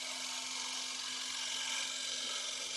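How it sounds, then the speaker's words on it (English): A woodturning gouge held in a low-handled shearing position cuts a spinning piece of wood on a lathe, giving a steady, continuous whirring scrape over a constant motor hum, with no speech. "So I'm cutting the wood at about a 45-degree angle."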